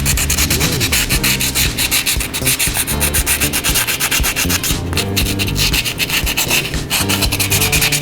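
Loud, continuous hand sanding of a concrete vessel: rapid rough scraping strokes back and forth, close up and steady throughout, with no talking.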